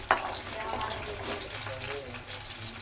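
Onion fries in oil with a steady soft sizzle and crackle, close and moderately quiet throughout.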